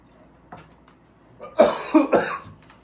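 A person coughs several times in a short, rough burst, close by, after a brief quiet pause, while eating spicy Korean jjamppong noodle soup.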